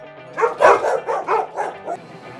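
A small Chihuahua yaps in a quick series of high, sharp barks, close by, about seven in a row.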